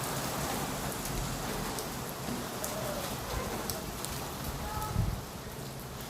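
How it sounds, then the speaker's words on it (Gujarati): Unseasonal rain falls in big drops, making a steady, close patter with scattered sharper hits and a soft thud near the end. "મોટા મોટા છાંટે આવ્યો છે"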